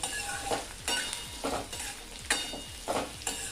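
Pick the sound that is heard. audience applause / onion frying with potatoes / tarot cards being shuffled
onion frying with potatoes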